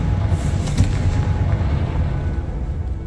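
Confringo explosive spell going off in the video game Hogwarts Legacy, a dense booming blast with rumbling low-end debris that sustains loudly for a few seconds.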